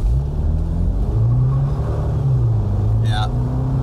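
A 2019 Jeep Wrangler 2.0 turbo accelerates with a loud, deep engine rumble that rises and holds as boost builds, heard from inside the vehicle, with a brief higher whine near the end.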